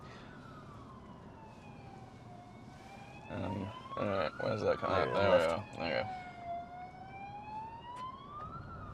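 A wailing siren sweeps up and down in the distance, rising louder in the middle, while a person talks over it.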